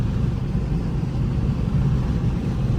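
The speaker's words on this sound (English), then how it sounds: "my car being extremely loud with the traction control off, in track mode, going crazy" A loud Dodge Charger RT engine with traction control off in track mode gives a steady, heavy low rumble that drones on without a break, close and dominant.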